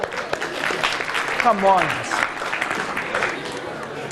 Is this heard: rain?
no